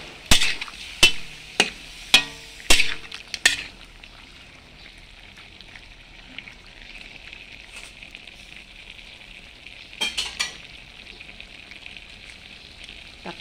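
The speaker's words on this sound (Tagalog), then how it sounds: "Hayaan muna natin na maging gisang-gisa yung pork natin" Pork sautéing in a frying pan, opening with several sharp clanks of a utensil against the pan before settling into a steady, moderate sizzle, with another brief cluster of scraping knocks near the end.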